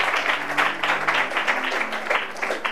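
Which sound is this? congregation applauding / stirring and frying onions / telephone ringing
congregation applauding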